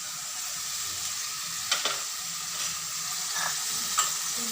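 Frying food in a pan being stirred after salt and sugar go in for patal do pyaza, a soft continuous sizzle and hiss with a few brief spatula scrapes, close and steady, no speech.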